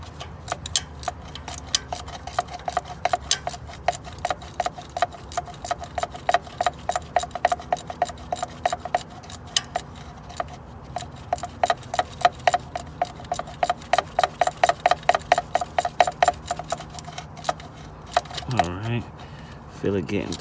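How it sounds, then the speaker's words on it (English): A hand ratchet tightens a spark plug on a 2000 Ford Ranger 3.0L, producing a long run of rapid, even clicks close up, with some muffled talk and shuffling underneath. "now we're gonna put that ratchet back on there"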